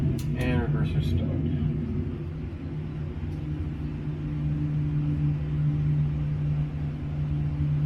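Thrust reversers engage during the landing rollout in a Boeing 737-800 flight simulator, producing a steady low rumble and hum that holds throughout, with a brief voice near the start.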